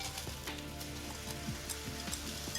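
Diced onion sizzles in a pan with browning pieces of lamb neck fillet, a steady close crackle with brief spits throughout.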